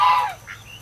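A coturnix quail hen gives a brief, high chirping call, close and clear, followed by a fainter second note, with no talking.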